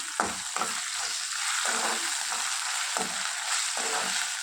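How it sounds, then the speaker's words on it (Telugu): A continuous oily sizzle of ginger garlic paste sautéing in oil fills the clip, with periodic scraping as a spoon stirs through the pan and a couple of light taps. "ఈ అల్లం వెల్లుల్లి పేస్ట్ పచ్చివాసన పోయేంత వరకు మనము మగ్గించుకోవాలి."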